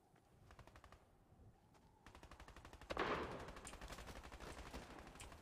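Rapid automatic gunfire in Fortnite, a steady rattling stream of shots that starts faint and distant, then swells louder with a sharp burst partway through, with no talk over it.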